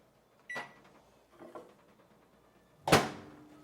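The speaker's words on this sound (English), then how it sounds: "let's throw this in the microwave." Garlic bread going into a microwave oven in a home kitchen: a sharp latch click as the door opens, a softer shuffle and knock, then a loud slam as the door shuts, close by with no talk.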